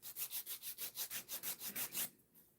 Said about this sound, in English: So I'm just filing the size here.